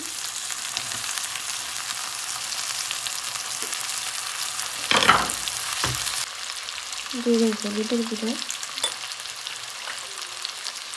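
Chopped tomatoes fry in a pan with ginger garlic paste, making a low steady sizzle with one sharp clatter and brief stirring scrapes partway through.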